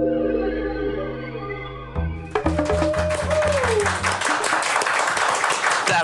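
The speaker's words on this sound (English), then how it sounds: "We pay the crew, so they have to clap one way or the other." A studio crew on a TV talk show claps, with loud, dense applause starting about two seconds in and continuing to the end, following a stretch of music.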